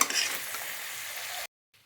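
Chicken fries with potatoes in a pan, a dense, steady sizzle that cuts off abruptly into silence after about a second and a half.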